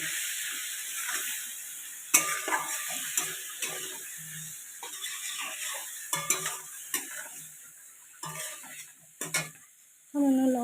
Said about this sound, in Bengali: আবার মশলাটা আলুটা ভালো করে কষিয়ে নেব